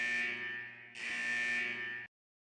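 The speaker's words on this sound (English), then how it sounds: "The buzzer signaling the test end finally rings." A harsh electronic buzzer from the Persona 4 Arena video game marks the end of a test, sounding in two sustained blasts with a brief dip between before cutting off to silence.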